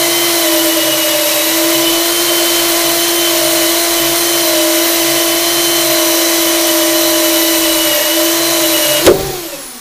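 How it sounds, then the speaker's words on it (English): A drill bores a starter hole through thick, tough tank material with a steady high-pitched whine that holds for several seconds, loud and close, ending with a sharp thump as it breaks through. "We'll drill a little starter hole here."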